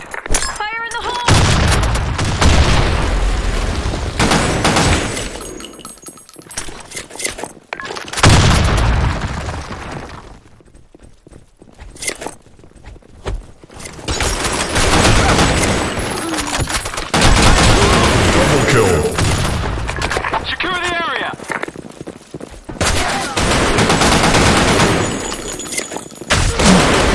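Rapid gunfire and grenade blasts in an office-map video game, dense overlapping bursts of shots and booms filling most of the stretch with only short lulls, while voice lines call out over the action.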